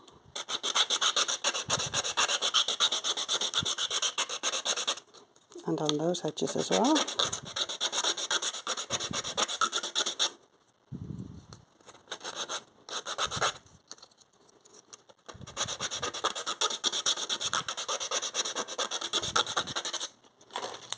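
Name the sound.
sanding wood with rough sandpaper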